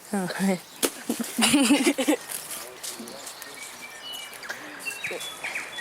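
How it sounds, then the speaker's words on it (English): Several short high chirps and warbling calls of tui birds rise over a quiet outdoor background in New Zealand, with people talking through the first couple of seconds. "Hear those tuis chirping away there now?"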